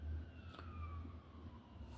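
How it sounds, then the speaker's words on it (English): A faint siren wails with slowly falling tones over a low steady rumble of traffic, distant and partly buried in the noise. "you hear that? It's a siren."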